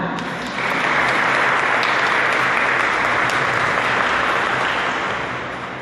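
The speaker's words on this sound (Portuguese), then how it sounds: "Vamos aplaudir a palavra?" A church congregation bursts into broad, continuous applause after the Gospel reading, swelling quickly and staying full and even before tapering off slightly at the end.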